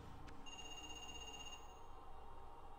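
A faint, thin electronic telephone ring in the video game Parasite Eve 2 sounds briefly over a steady low ambient hum, with no talking.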